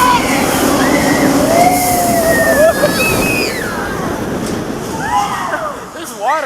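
Roller coaster splashing through a lagoon water section, a loud continuous rushing slosh of water with riders shouting and screaming excitedly over it throughout.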